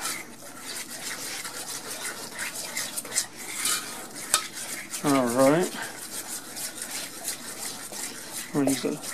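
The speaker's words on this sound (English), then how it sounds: "Scraping the sides of my pan" Sides of a pan being scraped with a utensil while cooking eggs, a series of close, uneven metallic scrapes and clinks, with a voice speaking over it in short bursts.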